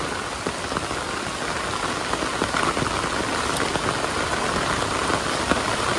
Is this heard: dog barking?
no